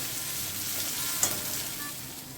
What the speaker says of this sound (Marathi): गॅस बारीक करून मध्ये आधी ती परतत राहायचं।